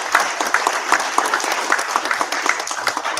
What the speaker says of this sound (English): So one more time, clap it up for that.